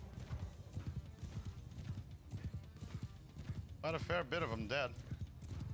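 Cavalry horses gallop in the video game Mount & Blade II: Bannerlord during a battle against Khuzait forces, a constant drumming clatter of hooves with a burst of neighing near the end, under a voice.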